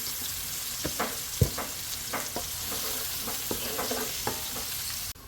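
Onions fry and sizzle steadily in a pan for a special khichuri, with a spoon stirring through them in a series of sharp scrapes and knocks over the continuous hiss.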